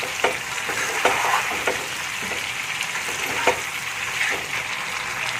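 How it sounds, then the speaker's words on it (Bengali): Potato pieces frying in oil for a chicken curry, a continuous soft sizzle with periodic scraping stirs of a spoon against the pan, no talking. "আলুটিকে দিয়ে আমি ভালো করে কষে নেব।"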